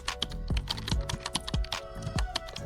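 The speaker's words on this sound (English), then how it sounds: "Now type VS Code download" Keys clack on a computer keyboard in quick, uneven bursts of crisp taps with short pauses between, recorded close and clear with no voices.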